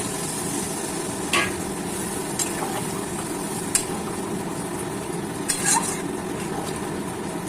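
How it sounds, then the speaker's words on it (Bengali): Water goes into a pan of sizzling chicken curry, making a steady loud hiss with a few faint clinks of utensils on the pan and no talking. "এবার জল দিয়ে দেবো,"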